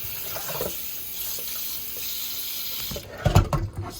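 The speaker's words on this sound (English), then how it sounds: "I'll be washing my chicken with just cold water." Cold tap water runs in a kitchen sink over raw chicken legs being washed, a steady soft hiss that swells into louder splashing and sloshing near the end.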